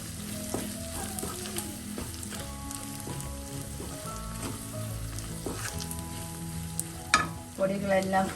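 Spice masala sautés in a pan for a brinjal curry, a close continuous sizzle broken by repeated scraping and clinking of the stirring spoon, growing busier toward the end.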